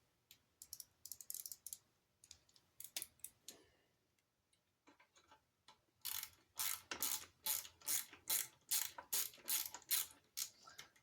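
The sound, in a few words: ratchet with Torx bit socket tightening carburetor mounting bolts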